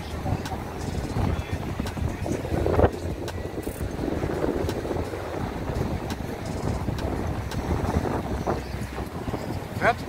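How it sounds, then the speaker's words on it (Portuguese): Strong gusting wind buffets the microphone on a beach at Barra da Tijuca, Rio de Janeiro, as a constant low rumble with someone talking over it. "O vento tá batendo forte"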